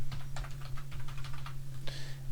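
Rapid clicking keystrokes on a computer keyboard, typing steadily at close range for about two seconds and ending in one sharper final press, with a low electrical hum underneath.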